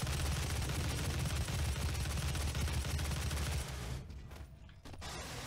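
Dense, rapid gunfire from shooting enemies in the video game DOOM, a loud, sustained mechanical barrage of close shots that runs continuously before thinning into a few scattered bursts near the end.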